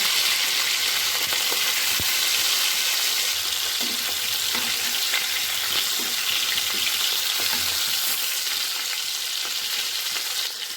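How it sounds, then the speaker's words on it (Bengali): Prawns frying in hot oil in a pan for a prawn do-pyaza, giving a steady loud sizzle with no break and a few faint stirring clicks running underneath. "এবার ওই তেলের মধ্যে চিংড়িগুলোকে ভেজে নেব"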